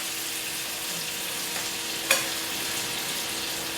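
A chocolate milk pancake fries steadily in a pan with a soft, even sizzle and one brief sharp click partway through.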